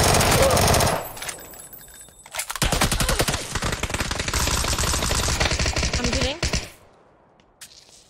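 Rapid automatic gunfire from a competitive shooter video game, loud dense bursts lasting several seconds with a short pause between them and a brief quiet stretch after, with a player's voice talking briefly near the start.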